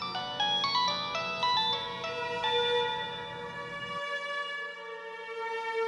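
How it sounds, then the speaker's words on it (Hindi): A phone ringtone plays a bright, repeating melodic pattern of electronic tones, loud and close, ending in a sustained ringing note with no voices. "राजवीर के पापा का फोन है।"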